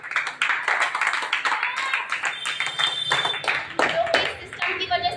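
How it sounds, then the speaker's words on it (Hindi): An audience at a scooter purchase celebration claps loudly and steadily throughout, the applause mixed with someone talking over it. "जोरदार ताली होना चाहिए"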